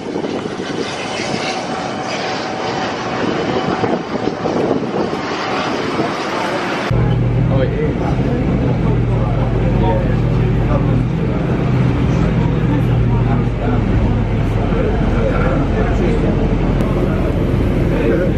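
A passenger airplane's engines roar steadily at an airport during travel to Cairo, a broad loud drone that swells louder partway through and holds, with no talk over it.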